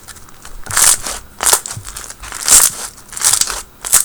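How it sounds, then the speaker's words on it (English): White glue slushie slime with a crunchy texture squished by hand, giving bursts of crisp crackling and crunching in a loose rhythm of about five squeezes, close and fairly loud. "Listen to that crunch."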